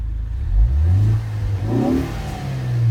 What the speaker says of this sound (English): I'm gonna give it a quick little rev.